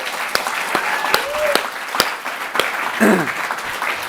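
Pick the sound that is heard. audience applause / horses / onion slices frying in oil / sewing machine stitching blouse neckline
audience applause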